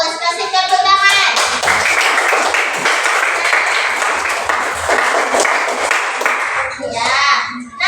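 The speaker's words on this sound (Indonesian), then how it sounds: "Kasih tepuk tangan." Classroom applause from a group of students, dense steady clapping that swells in after a brief spoken phrase and runs for several seconds before a voice returns at the end.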